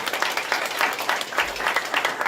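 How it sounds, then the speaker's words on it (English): An audience at the opening ceremony of a conference on China's influence network applauds in a steady round of many clapping hands, moderately loud and sustained throughout the short stretch, with no speech over it. "Please give another round of applause for them"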